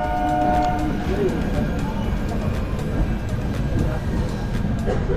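Doon Express train pulling out of Bandel station, a steady rumble of wheels and carriage noise filling the background from start to finish, with a voice talking over it.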